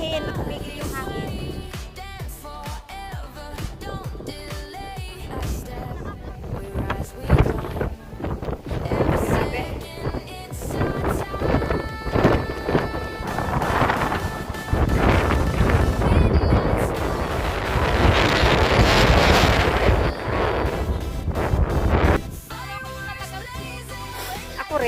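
Strong wind gusts on a mountain hike buffet the microphone in loud, roaring surges, rising and falling over a long stretch, with voices speaking intermittently underneath.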